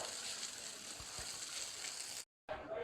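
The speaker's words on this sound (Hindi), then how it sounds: "अभी हम इसे पानी के साथ अच्छे तरीके से वॉश करेंगे।" Water rinsing dust out of air cooler pads after brushing, a steady broadband splashing and gushing that runs continuously, cuts out briefly near the end, then resumes.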